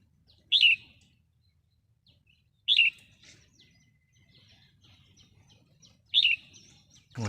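A wild red-whiskered bulbul gives three short, bright chirped calls, well spaced apart, with a fourth starting at the very end, all clear against a quiet outdoor background.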